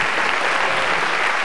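A theatre audience at a cabaret duo's show claps steadily in dense, loud, continuous applause with no pauses, filling the whole moment.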